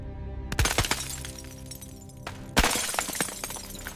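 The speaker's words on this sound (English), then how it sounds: "heard the sound of cracking glass" Glass cracking, two sharp shattering bursts about two seconds apart, each followed by a scattered tail of crackling, with no voices.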